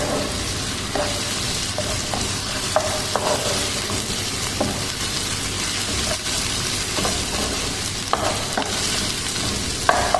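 Ginger garlic paste fries in a pan for an all-purpose restaurant-style gravy, giving a continuous close sizzle with repeated scraping stirs and a few sharp clicks, no talking.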